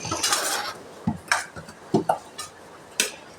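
Food being stirred and mixed in a pan: a spoon clinks and scrapes against the pan in several short, distinct knocks spread irregularly over a few seconds, fairly close, with no talking.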